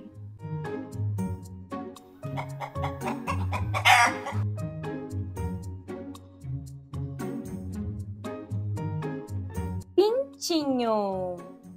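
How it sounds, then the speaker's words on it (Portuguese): A chicken clucks in short repeated bursts over a busy backdrop of tones, with a rising crow-like call near the end. "E o som da galinha?"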